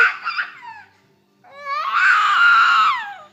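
A baby cries and shouts in loud, close bursts, a short wailing cry, a pause, then a longer strained shriek that rises and falls.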